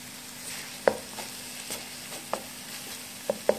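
Spices frying gently over a low flame, a faint soft sizzle beneath scattered clicks and taps of a spoon stirring in the pan.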